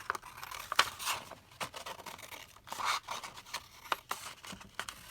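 Paper being cut with scissors for a scrapbooking pocket notebook, a series of short crisp snips and rustles spaced unevenly, fairly quiet and close, with no talking.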